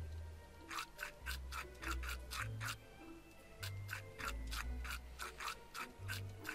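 Rapid toothbrush scrubbing in the video game Manual Samuel, a steady run of short bristly rasps in quick bursts, with a low droning game tone underneath and no talking.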